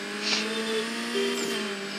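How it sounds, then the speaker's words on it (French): Engine drone of a car in the Burnout Revenge racing game, a steady sustained tone with a rising pitch sweep and brief squeal-like bursts, loud and continuous with no talking over it. "on entend bien le moteur."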